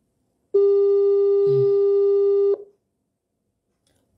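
An outgoing phone call produces one long, steady, loud electronic ring tone lasting about two seconds, then silence, with no voices.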